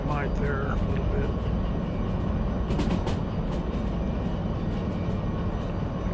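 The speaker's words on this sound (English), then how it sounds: "train sounds in the background" A train rolls in the background of the DV Sim railway simulator game, a steady broadband rumble with a few brief high clangs near the middle, continuous under a voice.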